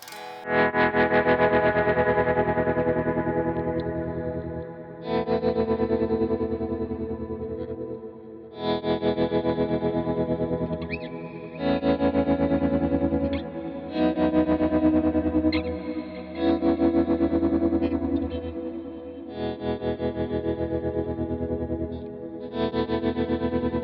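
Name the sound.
guitar tremolo effect with ramping tremolo speed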